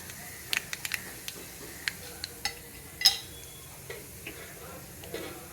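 Cumin and two kinds of mustard seeds crackle in hot oil, with faint, sparse pops and small ticks scattered over a low hiss.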